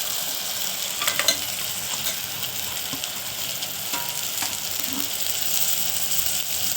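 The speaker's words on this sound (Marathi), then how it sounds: "तिखट घालून पुन्हा चांगलं परतून घ्यायचं" Moth bean curry with chili powder sizzles and fries in a hot pan, a continuous crackling hiss broken by the occasional scrape or clink of stirring.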